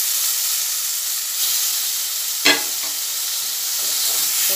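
Katla fish fat frying in a pan, a steady, close hissing sizzle with one sharp scrape of a stirring utensil partway through and faint rustles after it.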